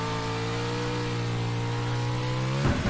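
A racing car engine in the off-road truck racing game Pro4 on the Wild West track holds a steady, high-revving buzzing drone, then abruptly shifts pitch near the end.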